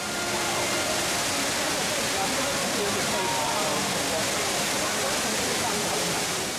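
Steady, dense rush of falling water from the indoor Rain Vortex waterfall at Singapore's Changi Airport, pouring into an acrylic funnel, fills the space, a continuous broadband cascade with no pauses, fairly loud and close.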